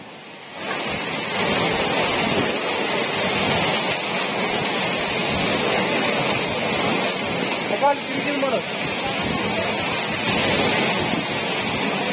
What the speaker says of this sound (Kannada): ಯಾದಗಿರಿ, ಶಹಾಪುರ, ಸುರಪುರದಲ್ಲಿ ಮಳೆ ಅಬ್ಬರಿಸಿದೆ